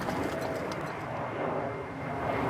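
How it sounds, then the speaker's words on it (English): Morning birdsong with pigeon-like cooing in the grounds of a large castle, mixed with the low, broad rumble of a passing airliner overhead, moderately loud and continuous. "Often this time of the morning you hear the dawn chorus."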